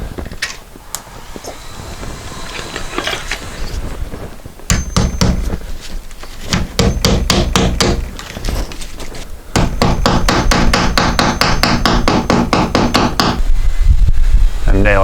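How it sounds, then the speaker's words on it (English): A hammer nails a wooden board during the rebuild of a rotted garage, striking in quick rhythmic runs of loud, close blows with short pauses between sets. "Nailing this every foot or so"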